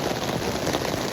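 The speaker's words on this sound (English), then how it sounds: "Listen to that rain." Steady rain falls on a surface during a wild camp along Hadrian's Wall, a close, continuous hiss of drops with no voices.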